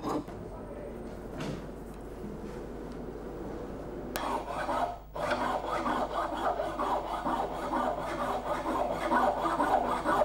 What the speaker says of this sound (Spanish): Paco lo repasa con la lima para quitar lo sobrante de las arandelas y las incrustaciones y dejar la superficie uniforme.